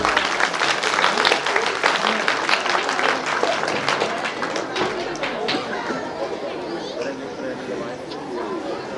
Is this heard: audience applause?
yes